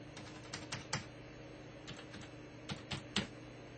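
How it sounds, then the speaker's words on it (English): Quiet, close keystrokes on a computer keyboard while setting up a partition on a music production PC, scattered taps in short irregular bursts over a low steady hum, no talking. "you backspace that and type in"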